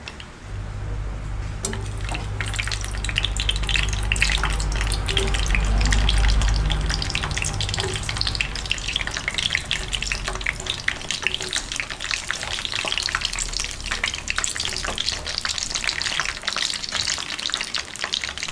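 Eggplant frying with smoked fish in a pan, a dense, steady crackling sizzle with scattered spits and pops, plus a low rumble in the first several seconds, continuing without pause throughout.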